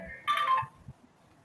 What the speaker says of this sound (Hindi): आपका फोन बजा गया?